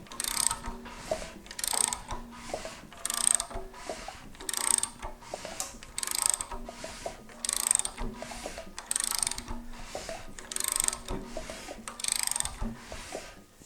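An Olds 455 V8 being rotated by hand with its valves adjusted, giving a steady run of mechanical clicks and ratcheting ticks in regular bursts, close and fairly quiet, with no talk.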